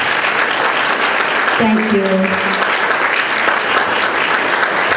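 Loud, continuous audience applause fills a charity fashion runway event for about five seconds, while someone briefly speaks over the clapping.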